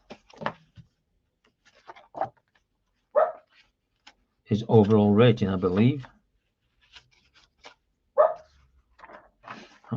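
A dog barks a few short times in the background, faint and intermittent, while someone speaks nearby; one longer whining, yelping bark rises in the middle.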